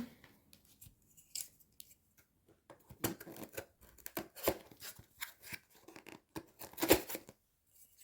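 Scissors snip open a diamond painting kit package from an Action store haul, giving a run of crisp cutting and crinkling plastic sounds, close and fairly quiet, with louder snips toward the end.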